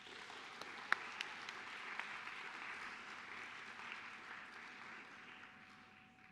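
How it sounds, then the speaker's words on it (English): Applause from a panel audience as a presenter named Zachary is welcomed to the stage, a steady broadband wash of many hands clapping with a few sharper claps standing out near the start, gradually tapering toward the end. "I guess I'll kind of let you come on up and have a round of applause for Zachary."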